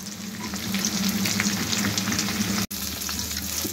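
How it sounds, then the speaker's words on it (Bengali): Bottle gourd leaf and dried fish fritters sizzle loudly in hot oil, a continuous dense crackle with a brief dropout near the end. "এই দেখুন কি সুন্দর করে ভাজছি, একদম ফুলে গেছে"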